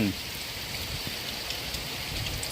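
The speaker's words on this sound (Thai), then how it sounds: "ฝนตกอีกแล้วโอ้โหชีวิต" Steady rain falls at a boatyard where fishing boats are hauled out for repair, a constant hiss of drops with a few louder patters close by.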